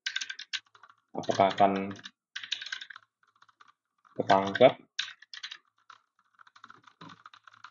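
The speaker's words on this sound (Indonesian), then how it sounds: "kita akan coba sambil ngetik ya" Clicky keystrokes on a computer keyboard, captured through a Sony WF-1000XM4 earbud microphone, come in quick bursts of typing with pauses, while a person speaks briefly in between.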